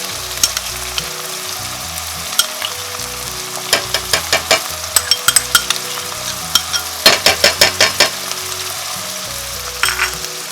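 Fermented soybeans fry in a pan for mee rebus, with soft sizzling broken by bursts of scraping and stirring clatter near the mic.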